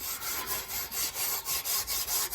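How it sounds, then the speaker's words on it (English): Fine steel wool rubs back and forth across a crusty chrome bumper from a 1940 Mercedes, about a dozen quick, even scrubbing strokes that sound close and gritty. "Now I'm going to go over it with the fine steel wool"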